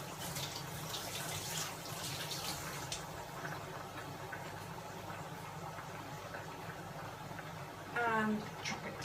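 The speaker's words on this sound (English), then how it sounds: "I'm just going to rinse it." Chervil is rinsed under a running kitchen tap, giving a faint, steady rush of water throughout, with a brief louder splash near the end.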